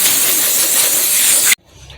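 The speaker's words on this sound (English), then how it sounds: "Now I'm going to just blow it off with some compressed air." A strong, steady hiss of compressed air blasts against a scuffed wheel rim for about a second and a half, then cuts off abruptly into near silence.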